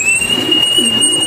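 Pigeons coo in a low, rolling murmur, two soft phrases close by, with a steady drizzle of heavy rain and a faint high electronic tone running underneath.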